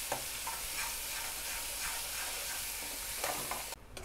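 Garlic chutney sautéing in a pan over low heat gives a steady, soft sizzle with faint stirring scrapes, close by and alone until it cuts off near the end.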